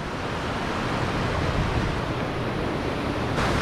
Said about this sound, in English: Just got to really be careful of these waves here because it's a little bit crazy right now